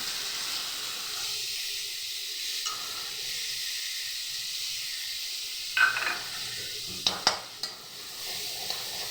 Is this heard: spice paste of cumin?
yes